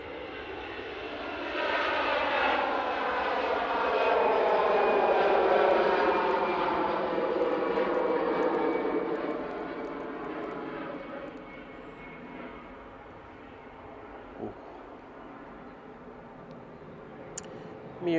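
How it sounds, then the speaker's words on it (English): An EasyJet A320 departing Manchester Airport for Amsterdam: jet engine roar swells to a loud peak, then recedes gradually into a fading distant rumble, with no voices. "the next departure is the EasyJet A320 off to Amsterdam"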